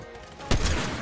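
The Midas drum gun in Fortnite Season 2 ranked play opens up halfway through: a sudden loud burst of rapid fire breaks a near-quiet moment and rattles on to the end.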